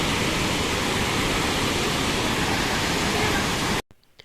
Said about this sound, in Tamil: எவ்வளோ ஒரு அந்த அருவியோட சவுண்டு